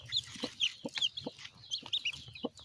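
A hen brooding a clutch of hatching eggs clucks in short repeated bursts, soft and close, with faint chick-like peeps mixed in.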